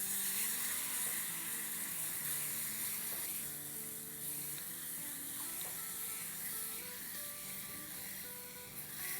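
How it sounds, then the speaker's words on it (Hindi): Milk being poured into roasted flour for a white sauce while stirring, giving a quiet, steady sizzle and liquid hiss in the pan, faint and continuous with light clinks, no talking. "अब इसमें एक हाथ से हम दूध डालेंगे और एक हाथ से हिलाते रहेंगे।"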